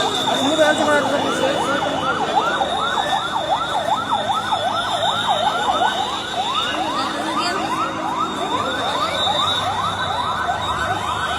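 Fire service sirens wail outside Mymensingh Medical College hospital during a fire, their loud rising and falling tones repeating continuously over a constant background of crowd and street noise.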